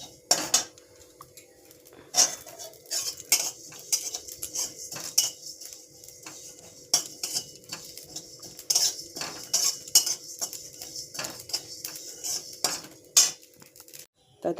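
Cumin, mustard seeds and five-spice seeds stirred in a dry pan, with repeated metallic scrapes and clinks of a spoon against the pan in an uneven rhythm, close and clear, with a faint rattle of seeds between strokes.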